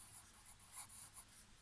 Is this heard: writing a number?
yes